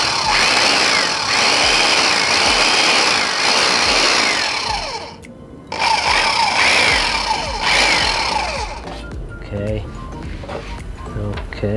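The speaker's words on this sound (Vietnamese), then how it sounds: "Một cái cưa lọng của Mỹ có thể thao tác ở nhiều cái công việc khác nhau" A WEN electric jigsaw buzzes steadily at high speed, cutting with a harsh rasp, pausing briefly in the middle, then resuming before winding down under some talk.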